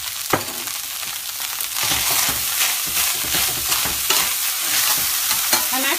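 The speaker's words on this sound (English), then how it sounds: "I'm going to stir it all together." Quinoa pilaf with cilantro stirred in a pan, a dense close sizzle with repeated scraping and clinking of the spoon, busier and louder after the first couple of seconds.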